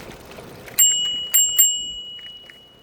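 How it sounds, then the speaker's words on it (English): A bicycle bell on a bike set up for a ride rings three times in quick succession, each bright ding ringing on and fading, close and clear with no talk over it. "Try our bell out."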